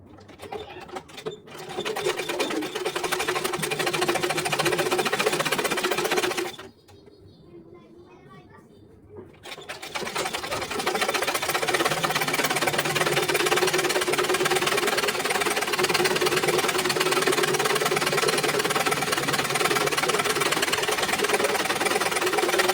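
Sewing machine stitching a blouse in long, loud, continuous runs, broken by a brief quiet pause in the middle before the steady whirring resumes.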